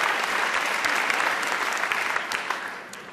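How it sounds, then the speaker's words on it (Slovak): Sustained applause from an awards-ceremony audience, dense and steady clapping filling the room for about three seconds without pause, loud and close. "veľký potlesk pre najlepšieho komentátora v Strednej Európe"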